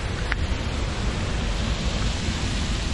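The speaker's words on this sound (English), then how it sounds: "Little babbling brook in there." A small babbling brook in a grotto near Havasu Falls rushes with steady broadband water noise, close and continuous, with no voices over it.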